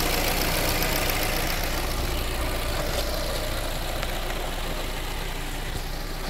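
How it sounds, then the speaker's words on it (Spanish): A RAM 700 pickup engine idling steadily with loud, continuous droning noise and a rough, busy texture, heard close and without pause and with no talking over it. "el sonido motor está muy fuerte ahora, mucho más que la mañana"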